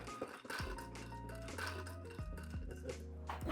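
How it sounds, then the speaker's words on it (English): Ice cubes clink and ring against a mixing glass as a gin cocktail is stirred, a close, steady series of bright tinkling knocks. "Crack our first cube. And give this a stir."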